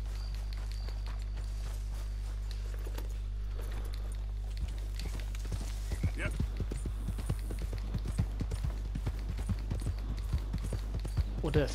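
Horse hooves clip-clop in the video game Red Dead Redemption 2, sparse at first and then a quickening run of distinct steps over a low droning hum, with someone speaking at times.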